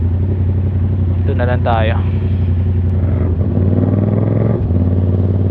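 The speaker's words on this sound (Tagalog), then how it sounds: "Ingay kasi ng motor ko" Constant low Yamaha MT-07 motorcycle engine drone on a night ride runs throughout, steady and close, with a voice speaking briefly over it.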